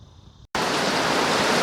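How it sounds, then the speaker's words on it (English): After a short silence, a dense steady hiss of Florida storm rain comes in suddenly and continues evenly, fairly loud with no voices. "we're starting to get little dribbles of rain."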